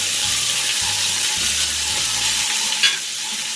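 Ginger and garlic fry in hot oil with a steady, bright sizzle, stirred a few times with soft scraping, loud and continuous close to the pan.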